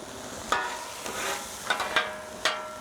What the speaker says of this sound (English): Just moving the onions around so they start to caramelise.